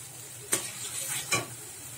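Masala spice paste fries steadily in oil for a Bengali crab curry. The hiss is close and continuous, and two sharp scraping stirs break through it.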